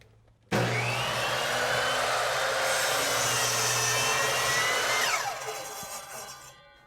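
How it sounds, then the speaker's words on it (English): A motorized 10-inch miter saw spins up and cuts through a wooden board, a loud sustained whine with rising rotor tones that winds down after about five seconds, alone without talk. "Most homeowners think of a motorized miter saw as a great way to cut moldings around the house"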